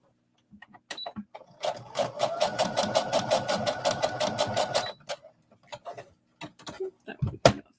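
A home sewing machine stitches a stretchy sports bra after the presser foot is lifted and the fabric pivoted. It gives a rapid, even run of needle ticks for about three seconds, with scattered clicks and handling noises before and after.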